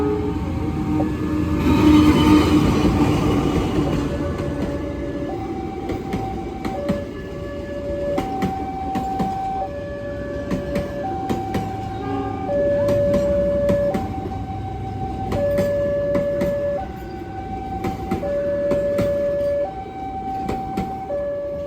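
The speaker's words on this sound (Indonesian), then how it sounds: "persiapan masuk kereta api komuter lain Supas untuk pertama kalinya di stasiun Probolinggo" The KA Supas commuter train pulls into Probolinggo station in Indonesia with a rising rumble of wheels, then a repeating two-tone station chime rings steadily over the rolling train, no voices.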